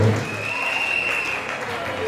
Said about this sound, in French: Applaudissons très très fort pour le Perende.